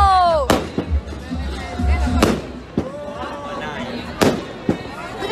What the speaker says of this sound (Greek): Τρελαφικά τα πυροτεχνήματα ρε παιδιά.